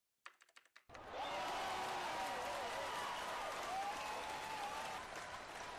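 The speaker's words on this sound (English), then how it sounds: "They deserve another round of applause for a job well done." Applause at the closing ceremony of a virtual world event, VWBPE 2016, starts with a few separate claps, then swells into dense, steady clapping that holds loud and continuous to the end.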